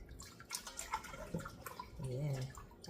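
Water splashes and trickles as raw chicken wings are rinsed in a bowl, close up, with someone talking briefly over the sloshing.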